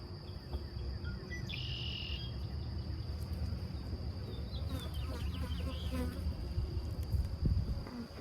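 Honey bees buzz steadily and close by while a beekeeper inspects hives and handles frames, with a dense drone running throughout and brief higher tones now and then.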